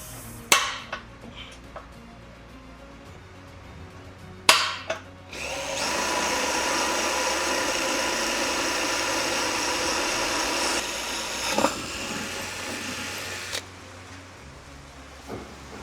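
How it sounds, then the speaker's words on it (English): A power drill whirs steadily for several seconds at close range, boring a hole in a cracked alloy wheel, preceded and followed by a few sharp metallic knocks. "So I'm going to drill it now."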